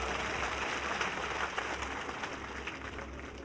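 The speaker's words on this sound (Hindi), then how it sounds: "इसलिए सबके लिए जोरदार ताली बजा दो।" Crowd at an election rally in Churu, Rajasthan, breaking into loud, continuous applause, a dense wash of clapping that holds steady and fades slightly at the end.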